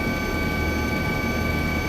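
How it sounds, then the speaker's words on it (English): A police helicopter flies over a residential neighbourhood around one in the morning, its engine and rotor making a loud, steady, unbroken roar throughout with no voices. "the cops and their noisy chopper have woken the whole neighbourhood"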